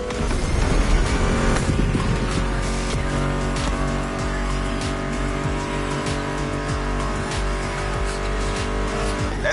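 Racing car engines in the video game The Crew Motorfest hold a loud, steady roar with a constant droning pitch and some tire squeal, running continuously under a music track.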